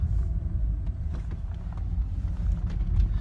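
A car's steady low engine and road rumble hold from inside the cabin, with faint wind noise and no talking.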